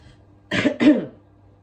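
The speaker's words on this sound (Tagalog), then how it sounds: "ang saba daw ng ubo ko" Two quick coughs in close succession from a pregnant woman, near and moderately loud, against a quiet background.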